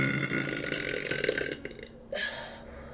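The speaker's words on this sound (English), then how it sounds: "Filling the room with my burps." A young woman burps loudly and at length, a rumbling belch filling the first half, then a shorter second burp after a brief pause, close and dry indoors.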